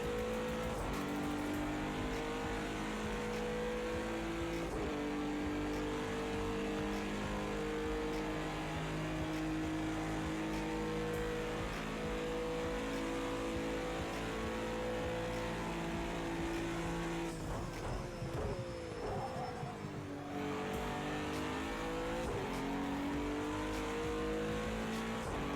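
A GT3 race car engine roars continuously around the Bathurst circuit in the Project Cars 2 racing game, loud and close, with revving climbs, gear changes and a sharp drop in pitch under braking.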